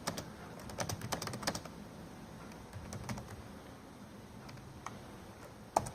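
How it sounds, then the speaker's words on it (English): Keystrokes on a computer keyboard come in quick bursts followed by sparser, scattered taps, close and fairly quiet, with no voices. "And we type this in."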